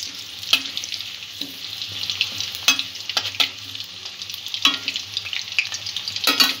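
Potato pieces fry in hot oil in a pan for chicken kalia, giving a steady close sizzle broken by repeated sharp scrapes and clatters of stirring.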